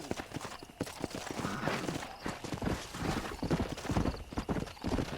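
Steady clip-clop of horse hooves trotting at a quick, even rhythm in the video game Red Dead Redemption, fairly close, with a brief whinny in the mix.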